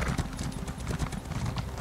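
Horse hooves clip-clop steadily in The Elder Scrolls Online, a continuous rhythmic trot of close, even hoofbeats heard on their own.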